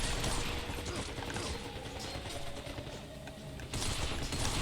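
Dense sustained gunfire in the shooter Binary Domain as robots' legs are targeted, continuous rapid fusillade filling the whole clip, loudest at the start and end with no pause.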